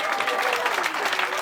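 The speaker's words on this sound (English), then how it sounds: "Round of applause for yourself." Comedy show audience applauding at the end of the performance, a steady wash of clapping from a crowd, fairly close and continuous throughout.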